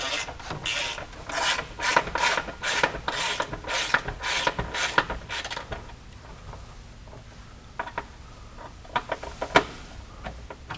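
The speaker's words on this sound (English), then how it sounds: "So we need to pull these bolts out." Bolts being worked out of an aluminum skid mount on a Can-Am X3 XRS, with a close, rapid rasping ratchet clicking in a steady rhythm for several seconds, then sparser clicks and scrapes.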